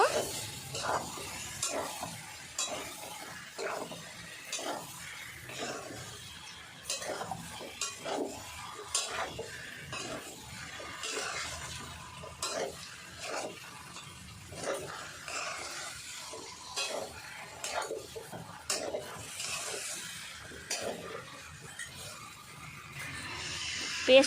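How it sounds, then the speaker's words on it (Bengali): Fried potatoes are stirred into a sizzling dum aloo curry, with a continuous run of rhythmic spoon scrapes and clinks against the pan over a low frying hiss, close and steady. "এবার আমি দিয়ে দেব ভেজে রাখা আলু ভালো করে মিক্স করে নেব"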